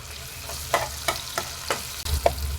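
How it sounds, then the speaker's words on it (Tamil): Chopped tomatoes frying with onions in a pan for a brinjal curry, a steady sizzle broken by several scraping stirs of a spoon at a regular pace, close and fairly loud with no talk. "தக்காளி கொஞ்சம் வெந்து சாஃப்ட் ஆகட்டுங்க"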